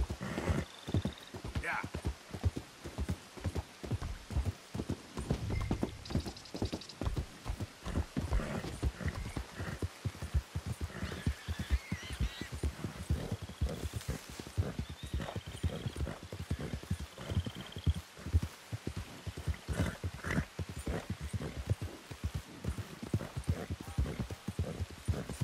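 Horse hooves in the video game Red Dead Redemption 2 beat a fast, steady clip-clop rhythm for a long stretch, with an occasional neigh over the galloping.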